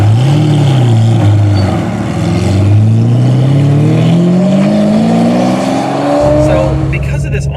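A Ferrari Testarossa drives off with its engine accelerating. The loud, close engine note climbs steadily in pitch, drops once as a gear changes, and then rises again.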